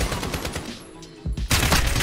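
Gunfire in a shooter video game, rapid bursts of automatic shots close and loud, a brief lull midway and then a dense, heavier volley to the end.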